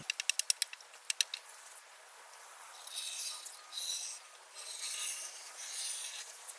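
A blade slices through window tint film on a Honda Civic side window, a quick run of sharp clicks followed by soft, steady scraping rasps, close and quiet with no talk.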